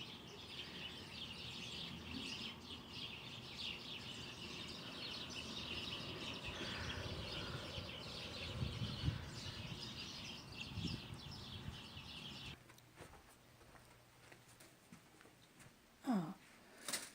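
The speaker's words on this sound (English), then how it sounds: "Listen to those birds." Birds sing indoors near a quail being washed and dried, with faint continuous chirps and tweets over a hissy background and a louder call near the end.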